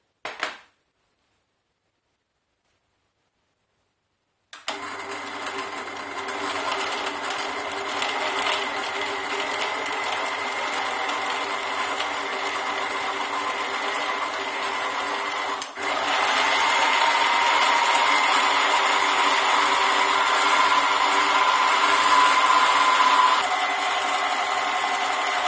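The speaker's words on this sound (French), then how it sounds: "Et puis je vais mixer." A blender whirs continuously while mixing a spirulina smoothie with water. It starts after a brief silence and runs loud and steady, rising in pitch and intensity partway through.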